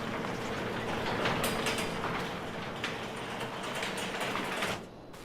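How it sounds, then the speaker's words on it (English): A train in Farming Simulator 22 rolls past at a good pace through a forest, a steady rumble with rhythmic clicking and clatter from the wheels that holds, then drops away near the end. "there goes the train. She goes at a good pace"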